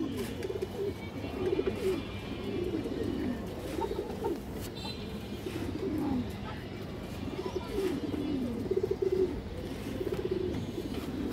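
Domestic pigeons coo in a repeated, rolling rhythm, the soft throaty calls recurring every couple of seconds over a steady background hum.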